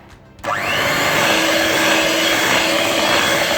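An electric mixer starts abruptly and whirs at a steady, loud, close pitch while creaming Victoria sponge cake mixture, running continuously without pause.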